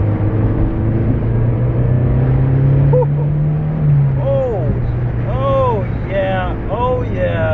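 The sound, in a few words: Mazdaspeed3 engine revving during third gear acceleration pull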